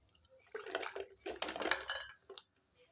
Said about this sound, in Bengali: এবার বাটির মধ্যে ঢেলে নিচ্ছি